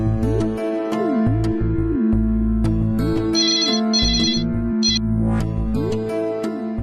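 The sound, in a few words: phone ringing while calling grandmother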